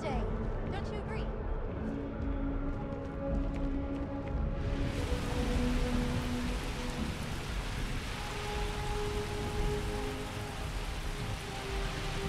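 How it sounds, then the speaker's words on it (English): Steady rain in the video game Starfield, in New Atlantis, hisses after a sudden onset, a constant wash of drops over low rumbling, with a voice heard briefly before it starts. "It's raining. Time to get all soggy."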